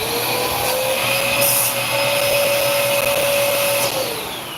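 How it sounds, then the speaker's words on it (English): A household vacuum cleaner with a small snap-in tube on its back runs steadily and loud throughout, used to clear jighead paint, with a constant motor whine and no talk. "Cut the vacuum off, and then your paint cleaned out."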